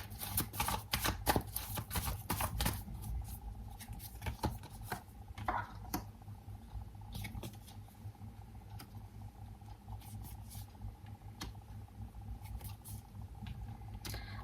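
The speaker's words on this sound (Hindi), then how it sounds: "ये कार्ड आना ही नहीं चाह रहा तो मैं एक बार और शफल कर लेती हूँ।" Tarot cards shuffle in the hands, a rapid burst of riffling flutters at first, then sparse soft card taps and slides against a quiet room hum; faint and close, with no talking.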